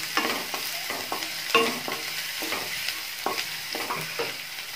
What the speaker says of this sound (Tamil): கட் பண்ணி வச்ச இஞ்சி போட்டுக்கலாம் இது நல்லா வதக்கிக்கணும்